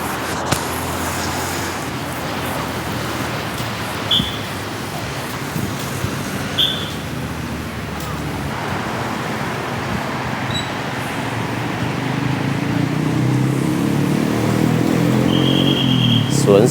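A continuous low rumble of road traffic passes in the distance, swelling toward the end, with a few faint high tones over it.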